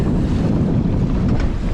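Wind and breaking water around a sailboat off the tidal New Zealand coast, with short, steep, overturning waves; a steady, loud rush of wind buffeting the microphone over continuous surf wash, with no talk.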